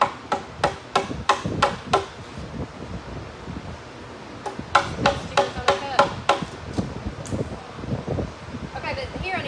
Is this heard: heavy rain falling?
no